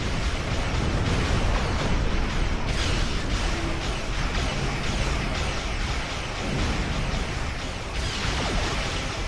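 Starship cannon fire and explosions in the space combat game Star Trek Online, a loud dense roar of blasts and rumbling bursts that continues almost without a break.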